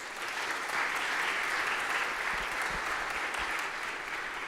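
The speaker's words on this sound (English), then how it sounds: "Clap it up for her, y'all." An audience at Westminster School applauds, a dense and steady round of clapping that holds at an even level from start to finish, moderately close.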